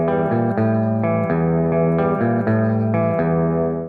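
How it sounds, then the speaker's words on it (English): Clean electric guitar plays a hunting intro figure with effects, notes struck in a steady repeating pattern, loud and sustained, building toward a heavy riff. "the clean hunting intro that builds into the heavy riff goes like this"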